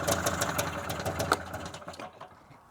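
A boggy Polaris Indy Lite snowmobile engine, treated with Seafoam, is given gas in a short burst of uneven, popping revs close by, then dies down within about two seconds.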